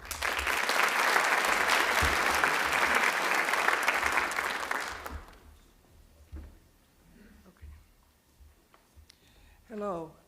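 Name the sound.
audience applause at an awards night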